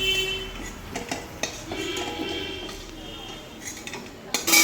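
Fried potatoes are lifted out of a pan in a home kitchen, with metal utensils scraping and clinking against the pan in short bursts over a faint sizzle of oil.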